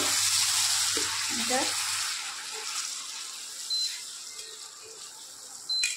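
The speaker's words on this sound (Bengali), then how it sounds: "আর এই লঙ্কা গুঁড়ো, ভালো করে কষে নেব।" Chili powder, with turmeric already in, is fried in a pan for a flat bean and poppy seed dish. A steady, soft sizzle and hiss runs throughout, with a low hum at the start and a couple of small clicks near the end.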